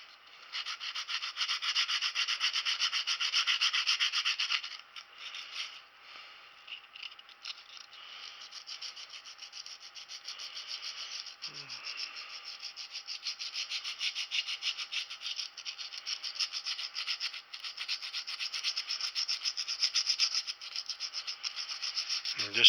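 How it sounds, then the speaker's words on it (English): Coarse 80 grit sandpaper rubs back and forth over wood for a plaque-mounted antler display, a steady close scratchy rasping that runs almost continuously, briefly easing off before picking up again. "Got just some 80 grit sandpaper here."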